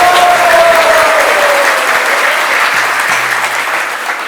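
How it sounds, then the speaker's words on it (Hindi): An audience at a Janmashtami gathering in an ISKCON temple claps loudly in welcome, a dense, continuous burst of applause close by that tapers slightly toward the end. "जोर से तालियां बजा के स्वागत करो"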